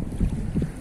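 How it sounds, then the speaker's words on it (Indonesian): Strong gusty wind on open water during a mullet fishing trip, rumbling and buffeting in short bursts close to the microphone. "Angin makin kencang."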